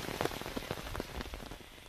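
Rain falls on a campsite by a river at night, a faint, steady patter of drops on surfaces with no voices.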